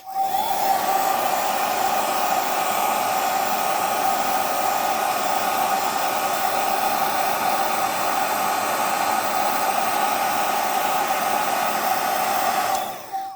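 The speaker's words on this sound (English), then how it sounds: "I want to take my hair dryer and put it on low." A hair dryer runs on its low setting, a steady whooshing hum held at an even level for about thirteen seconds before it cuts off, close to the mic and with no one speaking.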